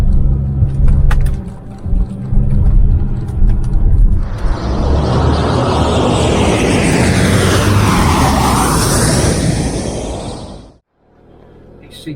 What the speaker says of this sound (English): He's leaving on a jet plane.